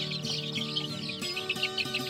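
Chickens cluck and chicks peep continuously while the chicks are being separated, a close mix of short clucks and high chirps with no talk.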